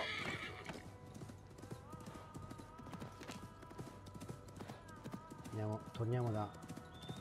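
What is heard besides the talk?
horse galloping and neighing in video game Assassin's Creed Mirage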